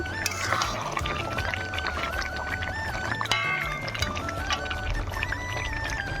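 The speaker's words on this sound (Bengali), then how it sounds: "মাংস কষানো হচ্ছে" Meat sizzles as it is sautéed in spices in a pan, producing a steady crackling fry close by with faint background tones throughout.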